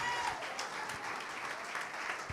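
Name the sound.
congregation applauding in church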